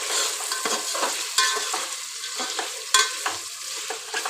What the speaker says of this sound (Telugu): చికెన్ అయితే ఆయిల్ ఇట్లా ఫ్రై అవుతుంది, ఒకసారి మనం మంచిగా ఇట్లా మిక్స్ చేసుకుందాము.